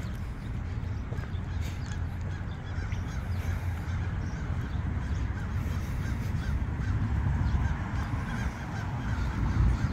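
Crows caw from trees in a Langley Park, Maryland neighborhood, their calls fairly distant and faint over a steady low outdoor rumble, with no one talking.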